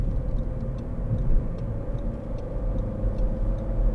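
A 2012 SEAT Ibiza 1.4 Sportrider hatchback cruising on a motorway, heard from inside as a steady low engine and road rumble with faint tyre hiss and no talk.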